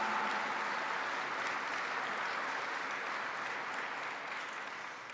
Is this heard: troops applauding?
yes